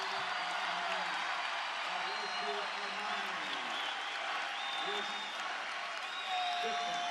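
Basketball crowd in Logan at a Grand Canyon versus Utah State game rising to its feet and cheering in the final seconds, a dense, steady roar that swells near the end, with a commentator talking over it.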